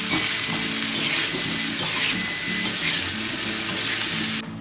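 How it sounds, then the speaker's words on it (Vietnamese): Soy milk being stirred in a cooking pot, a steady wet swishing and bubbling that keeps on with little change, close and fairly loud, with no talk. "Mình khuấy cho cái phần đậu nành cho nó đều lên."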